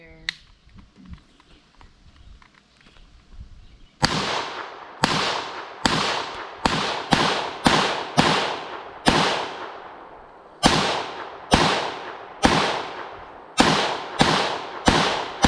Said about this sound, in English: He got to shoot it. Here's a clip of that. PS90. It's such a weird gun.